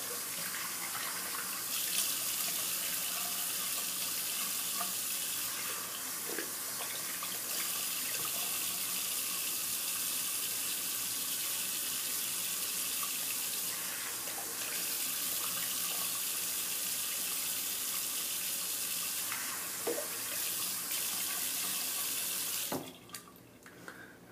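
A bathroom tap runs steadily into a sink during face washing after a shave, a continuous close hiss of flowing water with faint splashes, cutting off abruptly near the end.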